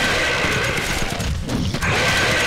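Dense gunfire fills a Metro 2033 firefight, a loud continuous rattle of shots with a brief dip in the middle before it resumes.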